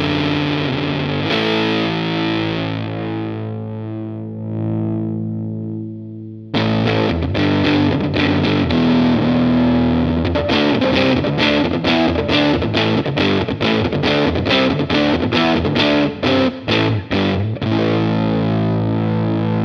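Electric guitar through a Reeves Electro Darlington Flyer fuzz pedal on its fat setting, giving a thick, saturated tone; sustained chords ring out, then loud, rapid rhythmic strumming drives on for the rest of the passage without talk.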